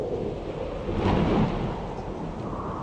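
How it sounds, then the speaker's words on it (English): Heavy rain pours steadily in a horror video game, with a low rumble of thunder swelling in the middle before settling back into the continuous downpour. "It's raining pretty hard."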